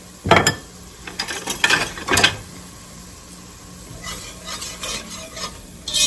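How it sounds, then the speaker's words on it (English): Vegetables dusted with flour are stirred in a soup pot for a chicken gnocchi soup. A spoon scrapes and clatters in bursts over a soft sizzle, close and fairly loud, with no talking. "And we're going to stir that around. Until all the vegetables are coated."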